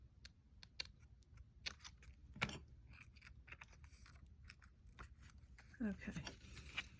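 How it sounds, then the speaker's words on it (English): Tim Holtz scissors snip paper for a collage in a run of sharp, quick clicks and cuts, with faint rustling and handling noises between them in a quiet room. "Let me get my Tim Holtz scissors."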